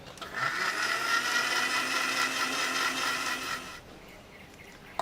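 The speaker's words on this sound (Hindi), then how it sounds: "बस सब चीज़ें आप अच्छी तरह पीस न तैयार कर लें।" A blender grinds guava chutney ingredients with water and cumin, a loud high whirring motor that runs steadily for about three and a half seconds, then cuts off into quiet.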